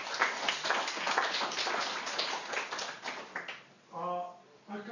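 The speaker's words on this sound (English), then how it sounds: "and I think they deserve an applause." An audience at a tech interviewing workshop claps in a dense, steady patter of applause that thins out toward the end, and a voice briefly speaks as the clapping fades.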